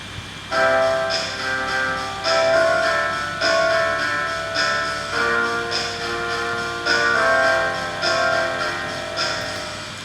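Piano chords comped in a steady swing pattern with walking bass and light drums underneath, a continuous mid-volume jazz groove.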